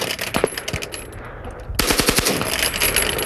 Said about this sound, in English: fully automatic machine gun